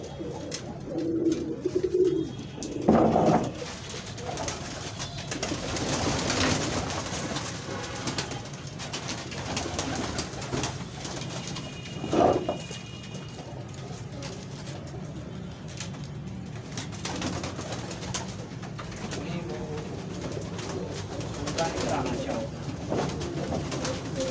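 Pigeons coo steadily at close range over a low background murmur, with a few louder bursts and some wing flutter.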